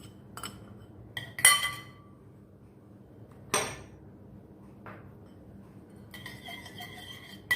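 Donut batter being mixed by hand in a big bowl, with sharp clinks and scrapes of a utensil against the bowl coming in scattered bursts between quiet stretches.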